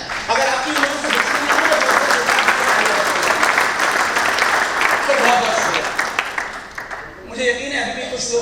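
Loud, sustained applause from a large crowd at a paint industry association gathering in India, dense clapping that tapers off near the end as a voice begins speaking.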